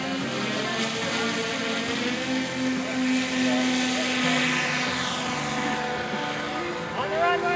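Engine drone from radio-controlled model aircraft at a large-scale fun-fly, a steady buzzing hum with shifting pitch as the planes prepare to take off, with people talking over it.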